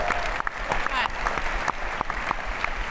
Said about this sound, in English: one last round of applause for all 5